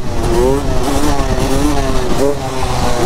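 Motorcycle engine running steadily and close by, sounding overheated, with a continuous throaty drone and slight pitch rises as it is revved throughout the short stretch.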